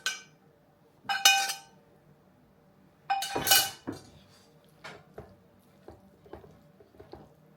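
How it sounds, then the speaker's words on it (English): Already cooked beans tipped into a baked beans dish, wet clinks and scrapes of a spoon against a bowl in a few loud bursts, then softer squishy plops and taps, close and with no talking. "And then we're going to put in our 1 pound of already cooked beans"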